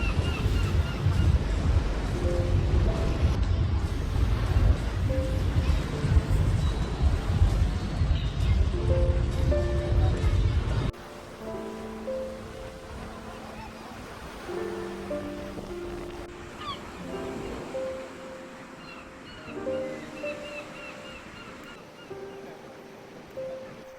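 Sea waves wash onto the beach at Ostia near Rome, a steady broad surf roar mixed with wind, loud for the first ten seconds and then softer and farther off, with some faint tonal sounds above it.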